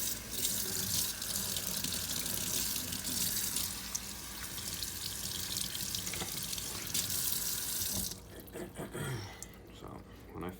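Running tap water rinses a refurbished Dovo Barbarosa straight razor blade on a coticule hone; a steady, close faucet stream splashes for about eight seconds, then cuts off, leaving faint drips and handling sounds.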